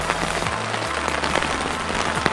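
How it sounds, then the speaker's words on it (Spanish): Steady rain falls outdoors in Scotland during a bicycle tour, a dense continuous hiss of drops striking surfaces nearby, with a low rumble underneath and no voices. "la lluvia no para."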